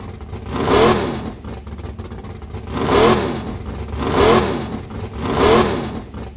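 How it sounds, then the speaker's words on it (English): Custom car engine with a working throttle linkage, revved in four distinct blips roughly a second apart, each swelling loudly then falling back to a steady idle, close up with no talk. "what that allows me to do is blip the throttle here."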